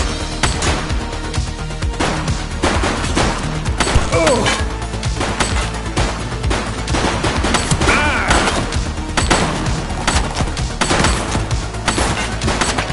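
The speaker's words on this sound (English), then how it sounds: "Police officer, he's shooting! No one move!" Dense, continuous gunfire from a police sandbox video game, The Precinct: rapid overlapping shots and bursts, loud and close, fill the whole stretch with scattered crashes.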